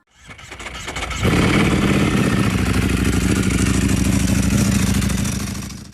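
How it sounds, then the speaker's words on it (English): A Kawasaki Z H2 motorcycle engine starts with a brief cranking clatter, then catches about a second in and settles into a loud, steady, throbbing idle that holds to the end. "The Kawasaki ZH2 is an incredible motorcycle"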